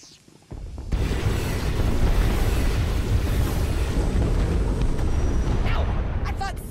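A heavy cannon in Star Wars: The Old Republic lets out a sudden booming blast that swells into a long, loud, roaring rumble, with a few faint higher tones near the end.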